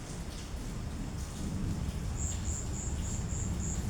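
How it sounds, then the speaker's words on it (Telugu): Steady broadband hiss of rain falling, with a faint repeating high insect-like chirp pulsing in the background during the latter half. "వర్షం పడుతూనే ఉంది తగు జాగ్రత్తలు తీసుకోండి"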